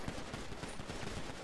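Rapid bursts of gunfire from a video game roleplay session, dense and continuous through the moment with repeated sharp reports close up and no talk.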